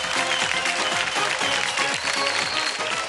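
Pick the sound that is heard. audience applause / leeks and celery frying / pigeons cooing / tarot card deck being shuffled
audience applause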